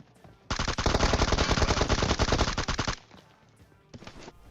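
A Kar98 sniper rifle fires in the PUBG video game amid a loud, dense rattle of rapid automatic gunfire lasting a few seconds, followed by a shorter burst.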